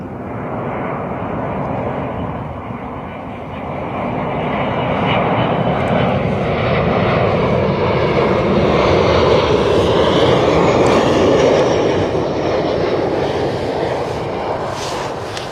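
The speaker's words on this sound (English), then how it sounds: "Ryanair 737-800, of course." Ryanair Boeing 737-800 landing at Bristol Airport in a gusty crosswind, a sustained loud jet engine roar that swells and stays heavy throughout, with wind buffeting.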